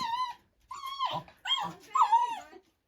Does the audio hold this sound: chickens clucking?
no